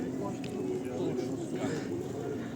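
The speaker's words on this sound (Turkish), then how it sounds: "Benim beslediğim güvercinlerin halini." Pigeons coo continuously up close while being fed, with a voice talking over the birds.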